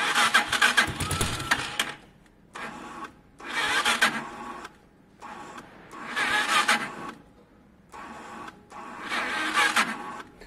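A Piaggio Vespa 50cc scooter cranks over on a weak battery in four or five labored bursts of whirring starter motor, each about a second long with short silences between, close and without catching.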